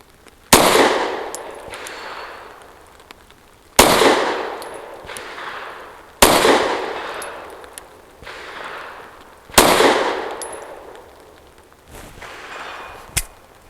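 A BUL Armory Ultralight pistol fires MagTech range ammunition at an outdoor range, four loud, sharp single shots a few seconds apart, each followed by a ringing decay, with faint clinks between them.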